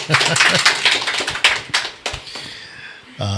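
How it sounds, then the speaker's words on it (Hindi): A church congregation at a Hindi online service claps for about two seconds, a dense burst of hand claps that thins into a few scattered claps before dying away. "ताली बजाओ"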